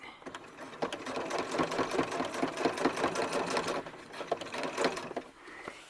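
A sewing machine stitching a faux leather doll hat runs steadily at close range, its rapid needle strokes forming a continuous mechanical rattle that eases off near the end.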